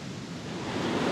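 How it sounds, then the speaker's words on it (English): Wind rising over bushland and rock slabs in Berowra Valley, a steady broad rushing gust that swells slightly louder toward the end, with no voices. "The wind is coming up now."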